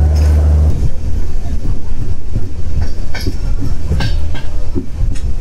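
A tourist special train with a Vistadome coach runs on rails in the Dooars between NJP and Alipurduar, giving a loud, steady rumble with rhythmic clickety-clack of wheels over rail joints throughout.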